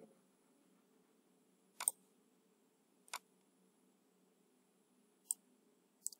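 A computer mouse clicks sharply a few times in a quiet room while working in LibreOffice Writer, isolated crisp taps spaced seconds apart, with a quick double click near the end.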